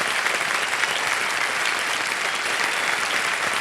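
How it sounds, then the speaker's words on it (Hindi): A studio audience at a televised quiz show claps continuously, a dense, even wash of applause with no pauses. "तालियां बजते रहें।"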